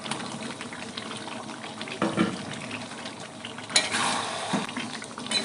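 Bengali chicken curry with fried potatoes being sautéed in a pan, a steady bubbling simmer with wet stirring scrapes and a couple of louder splashy stirs.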